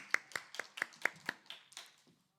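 A church congregation claps in unison during a worship service: seven crisp, evenly spaced claps, followed by a few looser, softer ones that trail off into quiet.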